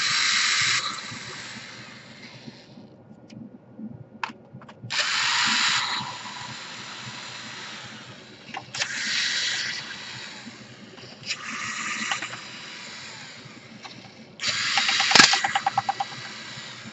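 An electric screwdriver backs screws out of a Gateway NV laptop in several short whirring bursts, close and fairly loud, separated by brief pauses with light clicks and handling noise.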